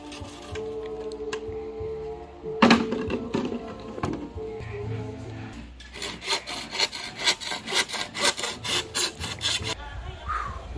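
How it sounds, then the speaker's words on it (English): Hand saw cutting through bamboo outdoors at a beach house build in the Philippines, opening with scattered knocks, then a steady run of rhythmic rasping strokes, close and clear. "cutting bamboo"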